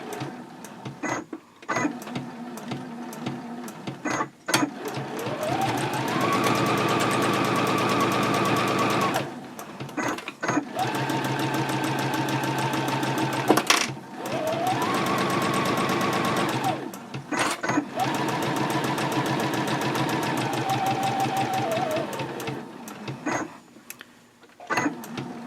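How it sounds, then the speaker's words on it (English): A sewing machine runs straight stitching along the seams of a fabric pouch at a 2.4 stitch length, in several long steady bursts separated by short pauses and brief back-stitching, close and fairly loud with no talking. "Go ahead and stitch those 2 seams"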